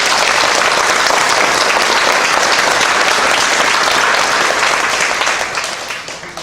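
Congregation applauding in a church during a pastor's installation and honorary pastor ceremony, sustained dense clapping throughout that thins slightly toward the end.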